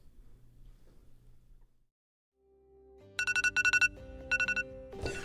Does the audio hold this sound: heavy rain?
no